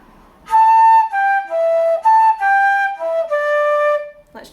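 Wooden-toned flute plays a short traditional tune phrase, clear sustained notes stepping through a melody with slight breathy edges, close and solo, ending with a brief breath.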